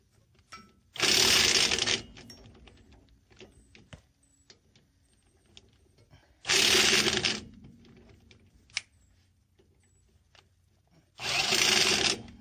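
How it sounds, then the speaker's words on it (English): An impact driver with a hex bit tightening bolts on a vehicle wheel adapter: three loud, close bursts of about a second each, separated by quiet gaps with faint handling noise. "I've got a hex driver on my impact. And so we're just going to tighten those up"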